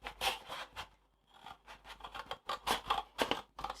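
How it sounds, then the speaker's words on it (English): Scissors cut along a drawn line through a paper plate, producing a run of crisp snipping and scraping strokes at close range, with a short pause midway and no talking. "get a grown-up to take the scissors and to cut along that line"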